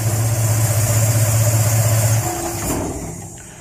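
A Dodge CL Charger engine idles steadily on a dyno, a loud, even rumble that holds for about two seconds before it is shut off and winds down into quieter mechanical noise.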